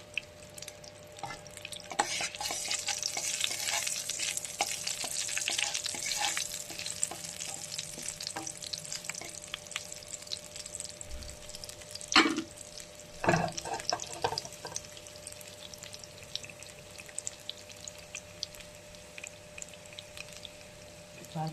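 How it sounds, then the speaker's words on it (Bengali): Water spinach fries in hot oil with whole dried chillies, garlic and green chillies, a continuous close sizzle with scraping stirs and a few sharp clanks of a utensil against the pan, no talking. "কলমি শাক ভাজা করে নেব।"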